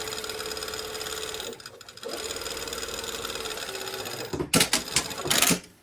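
A sewing machine whirs steadily as it stitches fabric right next to a pocket seam line, pauses briefly, then finishes with a few louder, choppy bursts of stitching.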